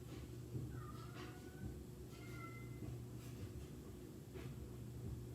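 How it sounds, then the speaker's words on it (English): A house cat meows a few times in a quiet room, soft and somewhat distant, short rising calls over a steady low background hum, with no talking. "Sounds like my cat's struggling to find me."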